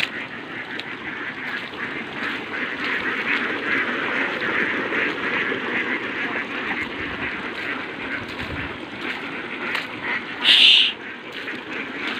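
Ducks being herded home in the rain keep up a dense, continuous chorus of quacking throughout, close and fairly loud, with one louder, sharper call near the end.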